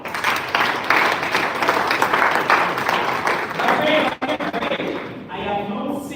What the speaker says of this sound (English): 1, 2, 3, let's clap.